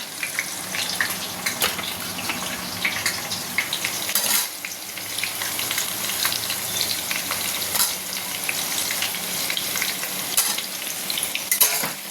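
Drumstick stalks stir-fried with potato and pumpkin for khichuri in a home kitchen, a continuous close sizzle of hot oil broken by repeated spoon scrapes and clinks against the pan.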